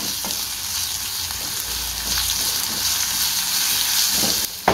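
Ground cumin and fennel sizzle and fry steadily in a hot pan for a rasam, with occasional stirring scrapes, close and continuous with no talking.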